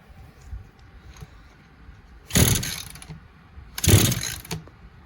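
An ECHO GT200R string trimmer being rebuilt is pull-started twice, each time a loud close burst of rattling cord and engine turnover lasting about half a second, with quiet handling noise between.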